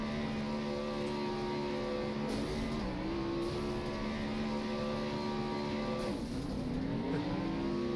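Stock cars racing at Talladega in the iRacing game, a continuous loud engine drone with layered tonal whines that bend in pitch as cars shift and pass, no voices.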